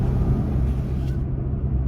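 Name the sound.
pickup truck cabin noise while driving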